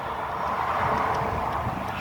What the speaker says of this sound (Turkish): biraz rüzgar çıktı